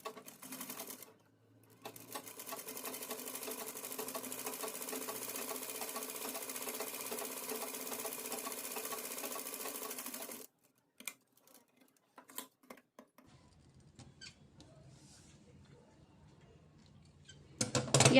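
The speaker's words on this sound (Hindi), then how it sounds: "इतना इतना भाग ओपन रखते हुए हम पूरे साइड पे सिलाई लगा लेंगे।" A sewing machine stitches around a round fabric Dori pendant, humming steadily for several seconds before stopping; quieter handling clicks and rustles follow.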